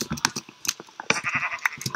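Sheep bleating in the Minecraft video game, several short nasal bleats in quick succession over about two seconds, fairly close and clear with no talking.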